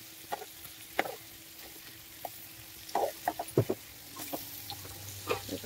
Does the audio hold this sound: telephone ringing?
no